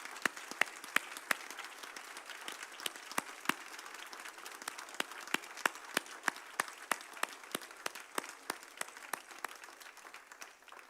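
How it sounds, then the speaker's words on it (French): A church congregation at an Easter service in an evangelical Baptist church applauds, with crisp, distinct hand claps repeating at a fairly steady pace over a softer wash of clapping throughout. "Est-ce qu'on peut applaudir le Seigneur maintenant pour vivre cela?"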